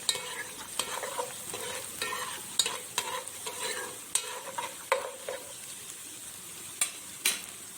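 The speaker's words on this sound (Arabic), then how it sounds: "هنحط كده مع البصلايه واحنا بنشوحها معلقه الثوم دي كده، نشوح معاها معلقه ثوم مع البصلايه" Chopped onion sautéing with a spoonful of garlic, heard as a soft steady sizzle in a pan broken by intermittent scraping stir strokes and spoon taps, moderately close and fairly quiet.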